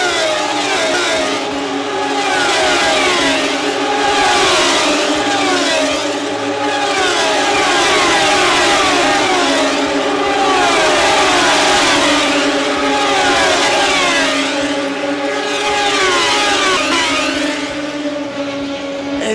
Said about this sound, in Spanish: Este es el ruido que meten las motos,